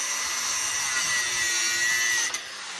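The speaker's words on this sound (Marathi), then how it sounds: "आता हे मशीन चालू आहे. अँगल विंगल कापायची कामं चालू आहे तिथं मस्त." Machine cutting angle iron for a gate, a sustained high, bright grinding whine running steadily for over two seconds before dropping off abruptly near the end, fairly close and with no speech.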